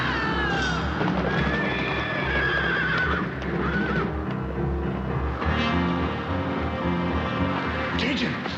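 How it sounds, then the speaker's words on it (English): Horses neighing and whinnying on a Western trail, spooked loose by thunder, with hoofbeats clattering beneath a dense, continuous wash of loud sound throughout. "The horses are loose."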